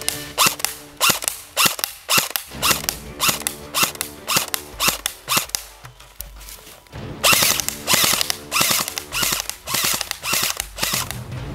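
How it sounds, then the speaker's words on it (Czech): An ICS SIG SG551 SWAT airsoft rifle fired at a shooting range: a close, loud string of rapid sharp snapping shots in bursts and quick semi-auto strings, with a short pause before the firing resumes, no voices. "A teď si vyzkoušíme, jak si tenhle SIG vede na střelnici."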